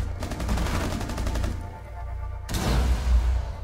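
Rainbow Six Siege gunfire cracks out in rapid automatic bursts, with a dense volley, a short lull, and then another loud burst.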